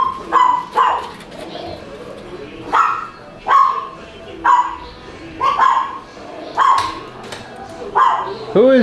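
Puppies on a farm bark in sharp, high yaps, repeated at a steady pace and close by, with birdlike cooing and a voice in the background.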